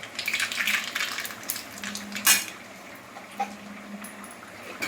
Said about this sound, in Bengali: টক মানে একটু সর্ষে দিতে হবে, এই সর্ষে আমি ফোড়ন দিব।